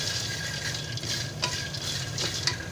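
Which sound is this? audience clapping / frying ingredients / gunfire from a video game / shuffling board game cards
frying ingredients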